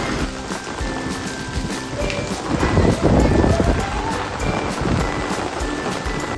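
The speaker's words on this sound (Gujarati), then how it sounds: "જોરદાર પવન સાથે વરસાદ પણ આવી ગયો" Strong, blustery wind roars across the microphone in surging gusts, with a dense wash of rain noise beneath, swelling loudest midway.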